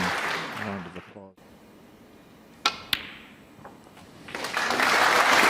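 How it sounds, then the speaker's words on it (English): A snooker crowd at the UK Championship, Ronnie O'Sullivan against Ding Junhui, applauds and then falls away; a couple of crisp ball clicks sound in the hush before clapping swells again, with commentary heard early on. "Round of applause"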